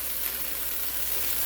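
Vegetables and roast beef sizzle in a pan on the stove, a steady close hiss of frying fat crackling continuously with no talk over it.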